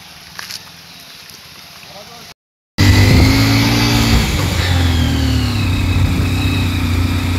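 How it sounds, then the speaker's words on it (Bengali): Motorbikes on a hilly mountain road after rain, a quiet stretch cutting suddenly to loud, close engine drone that holds steady and rises as bikes pass, with voices mixed in. "আমাদের অনেকে বাইক করে যাচ্ছে, বাইক দেখা যাচ্ছে"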